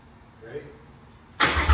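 A Mercedes fitted with a Voodoo flat-plane V8 engine fires up abruptly after a quiet lead-in, giving a loud, close burst of combustion that builds toward a rev at the very end.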